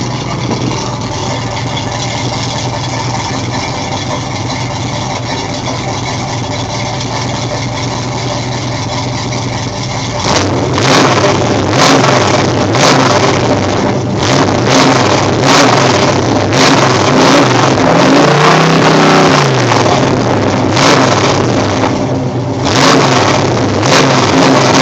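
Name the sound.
car with new exhaust idling and revving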